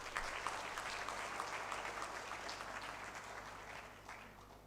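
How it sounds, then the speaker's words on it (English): Students at a university undergraduate orientation applaud in a broad, steady round of clapping heard from some distance, gradually fading toward the close. "Let's give all of you a big applause."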